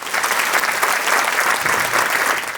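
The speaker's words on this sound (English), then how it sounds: "Round of applause to the panelists" Steady applause from an audience for the panelists on stage at a celebration marking Pratham's 30 years, dense and even throughout without a break.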